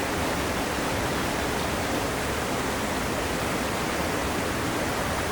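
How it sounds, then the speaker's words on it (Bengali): Steady close roar of water falling from a waterfall at Jatinga, a broad, unvarying rushing wash that fills the whole stretch without any voices. "ঝর্ণা জল পড়তেছে কত সুন্দর।"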